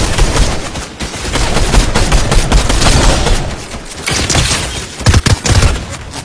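Dense, continuous gunfire from a Fortnite match, rapid shots blurring into a sustained fusillade with a brief lull and then a few heavy, punchy blasts near the end, loud and close with no talking.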